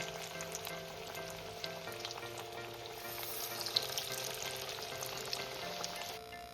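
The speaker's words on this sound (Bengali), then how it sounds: "আবারও আমি এভাবে তেলের মধ্যে ছেড়ে দিচ্ছি এইভাবে আমি পেঁয়াজগুলো ভেজে তুলে নিচ্ছি" Masoor dal onion fritters deep-fry in hot oil with a dense, crackling bubbling sizzle, steady and close but fairly quiet, with a faint background hum and no talking.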